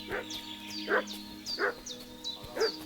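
A dog barks repeatedly in Kingdom Come Deliverance II, a rhythmic series of yipping, fairly loud barks about every half second over a steady low hum, with no talk.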